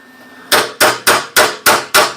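A steel hammer strikes a hardened Craftsman tool while a Corvair bearing adjusting sleeve tool is being made, six sharp, evenly spaced metallic taps in quick succession, close and loud, with no talking.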